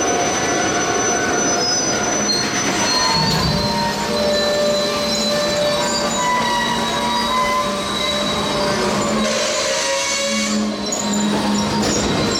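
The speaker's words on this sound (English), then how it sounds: "PO74 would then shove back into the yard, setting off cars before marking the rear end of their train" Freight train shoved back into a yard by Alco diesel locomotives on the Pocono Main, a steady loud rumble of rolling cars with high wheel squeal and flange screeches throughout, no talk.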